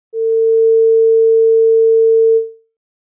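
A pure 450 Hz sine tone sounds alone, steady and loud for just over two seconds before fading quickly to silence.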